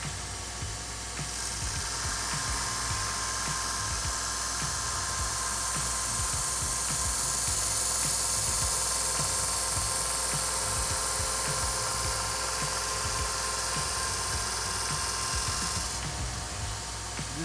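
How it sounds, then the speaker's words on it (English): A belt grinder shapes a knife bevel on an old file, a steady loud abrasive whine and hiss running almost the whole time, close up, with the grinding pitch rising as the steel presses into the belt. "I'll turn the machine on. Adjust my belt because I'm working from the other side."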